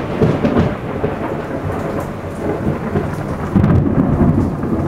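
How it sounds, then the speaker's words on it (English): A big lightning bolt is followed by loud, continuous rolling thunder with steady rain, a deep rumble that swells near the end. "Another big bolt of lightning."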